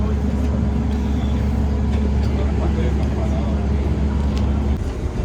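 A bus rumbles along on the road toward the Vatican, a steady loud engine and road drone with low hum, running continuously without pause.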